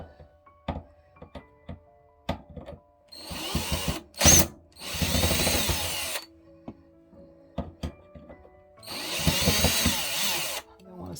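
Power drill backing screws out of a home refrigerator's rear panel during coil cleaning: several short whirring bursts of varying length with small clicks and handling knocks between them, close and fairly loud, no talking.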